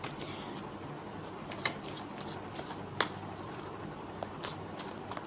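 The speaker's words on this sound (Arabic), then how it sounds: "انا عماله افرط لكم الورق قوي عشان تطلع حاجه حلوه كده" Fortune-telling playing cards are shuffled by hand, giving a soft, continuous riffling and rustling with a couple of sharper flicks, close and fairly quiet.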